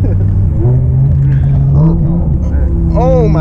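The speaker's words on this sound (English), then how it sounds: "The sounds this car makes is just ridiculous." A straight-piped V10 BMW M6 rumbles loudly and steadily from close by, with deep low engine drone throughout while people talk excitedly over it.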